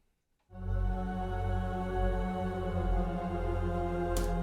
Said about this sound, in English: I switch off shimmer, the choir sounds like this.